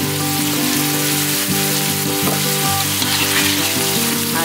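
Squid sambal with salt, sugar, stock powder and lime leaves fries and gets stirred in a pan, making a loud continuous sizzle with scattered scraping knocks, close up and with no voices.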